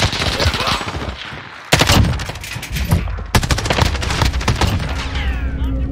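Rapid automatic gunfire in Call of Duty Modern Warfare online multiplayer, loud close bursts of crackling shots with a short pause between volleys, ending in a lingering ring.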